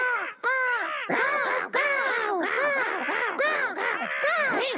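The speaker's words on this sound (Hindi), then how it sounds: "वो रहे कौवे" Several crows caw in quick succession in a Hindi-dubbed Ninja Hattori cartoon, harsh drawn-out calls repeating close by with short gaps between them.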